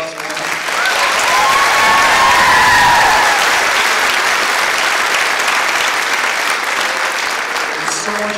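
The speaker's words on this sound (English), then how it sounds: "Round of applause for him." An audience at a high school choir concert bursts into sustained applause that swells quickly and holds steady as a dense wash of clapping, with some voices faintly mixed in.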